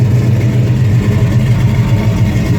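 A 1972 Chevelle SS with a four-speed runs close by, its engine a loud, steady low rumble while being shifted into reverse, with no clear clunk standing out.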